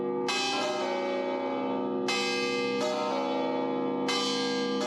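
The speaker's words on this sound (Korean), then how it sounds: "드디어 종이 울린다." Seven church bells in the belfry of the Leaning Tower of Pisa ring loud and close, with four strong clanging strikes whose long metallic tones overlap and hum on between hits.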